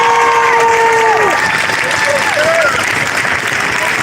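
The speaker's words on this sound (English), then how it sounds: "Kingsman, deserves another standing round of applause." A crowd at a Black Lives Matter event in Newport gives a loud, sustained standing ovation of clapping and cheering, with a few whistles rising and falling above it.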